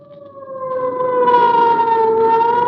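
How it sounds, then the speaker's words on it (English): A siren wails in a long, steady, slowly wavering tone that rises in loudness and stays strong, evoking an ambulance racing through darkened city streets at night. "Or the wild shriek of a siren as an ambulance catapults through the city's darkened streets"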